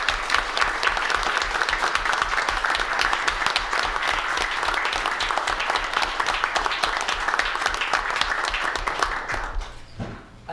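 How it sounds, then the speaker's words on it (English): An audience at a Nags Head Board of Commissioners meeting applauds town employees, with sustained dense clapping from many people that holds steady for several seconds before tapering off quickly. "If we can give our employees a round of applause"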